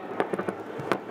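Fourth of July fireworks grand finale at a house in Port Orchard, Washington: a rapid string of sharp bangs and crackles, four or five distinct pops heard at a distance.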